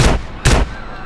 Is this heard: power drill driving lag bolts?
no